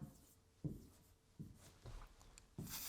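A marker or pen writing on a board during an English lesson, faint soft scratches and rubbing strokes in short bursts, about four strokes over a quiet room, without talking.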